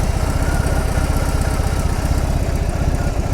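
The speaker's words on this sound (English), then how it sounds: "What a funky engine." A BMW R 18 B bagger's big air-cooled 1800 cc boxer twin idles steadily, a dense, lumpy low throb with fast regular pulses, close and loud throughout with no talking.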